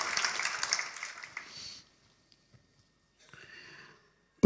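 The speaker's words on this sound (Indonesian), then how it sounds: "Kita beri tepuk tangan yang meriah untuk kebenaran Tuhan." Congregation applauding during a church sermon, a dense burst of clapping that fades out after under two seconds, followed by near silence and a brief, fainter patch of noise.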